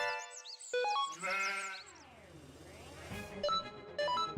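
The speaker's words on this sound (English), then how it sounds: "Oh, sheep." Sheep bleating in Suikoden II, several synthesized bleats with a wavering pitch set against chiming game music and effects, close and clear with no talking.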